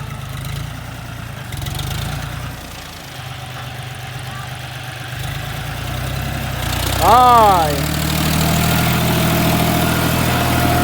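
A John Deere 5045D tractor runs steadily while ploughing sandy soil: a low, rumbling diesel drone with a brief rising whine partway through, close and continuous.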